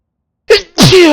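A sneezing fit heard over a Warhammer 40,000: Rogue Trader game session: two sharp, loud sneezes about a quarter second apart, the second longer and trailing off, with no talk during them.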